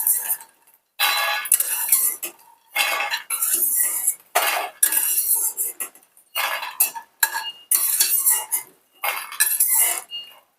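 Roasted makhana (fox nuts) being scooped out of a pan makes bursts of dry rattling and scraping, metal against metal with light clinking, coming in repeated loud close strokes separated by short silences.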